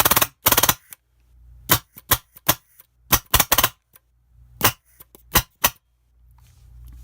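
Pneumag pneumatic paintball marker firing in semi-automatic bursts, sharp close cracks in clusters of two to four with short pauses between, each shot followed by a faint hiss of air, no talking.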